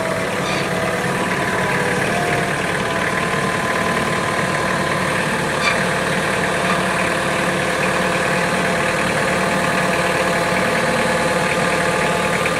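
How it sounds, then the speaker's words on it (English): A tractor engine runs at a steady idle, moving up toward the clamps of a clamp-on snow blade. The low, even drone is close and continuous, with no talk over it. "Basically going to bring the tractor up."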